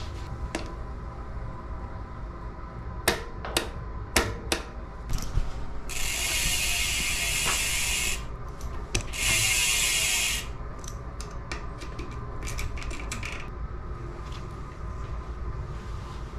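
Bicycle frame bolts on a Guerrilla Gravity modular frame being torqued to 12 foot-pounds, with sharp ratchet clicks and two longer sustained hissing stretches over a steady background hum.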